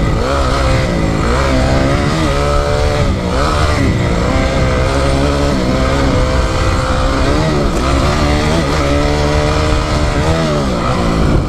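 A motocross motorcycle is ridden around a dirt track lap, its engine loud and continuous with rising and falling revs as the rider works the throttle through turns and straights.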